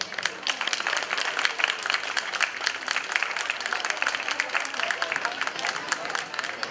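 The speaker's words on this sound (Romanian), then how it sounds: "Îi putem întâmpina cu aplauze." An audience applauds steadily to welcome performers of an Aromanian children's group and the Daima dance ensemble at an interethnic festival stage event, a dense, even wash of clapping sustained throughout with no pauses.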